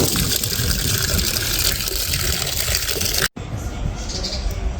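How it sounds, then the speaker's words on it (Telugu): Water gushes loudly and continuously into a container to soak raw mangoes, a full pouring rush that cuts off abruptly and gives way to a quieter trickle. "వీటిని నానబెట్టిస్తాను మంచిగా వాటర్"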